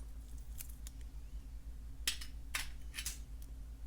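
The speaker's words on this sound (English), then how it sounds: "use these very tiny scissors, and I get underneath the tape like this and cut it" Small scissors snip through tape several times in quick, crisp cuts against a steady low hum, close up with no talking.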